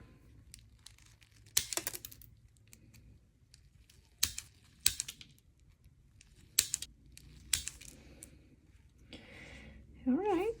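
Clippers trim artificial gel nail tips. Scattered sharp snipping clicks come close and fairly quiet, spaced irregularly over a soft background, and a brief voice is heard near the end.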